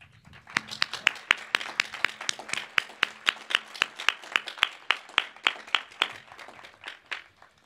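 At a 2022 UWC-USA graduation ceremony, a modest audience claps in a steady, fairly sparse rhythm of distinct hand claps, moderately close, with no talk over it.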